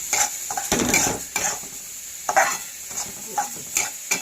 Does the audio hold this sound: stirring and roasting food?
yes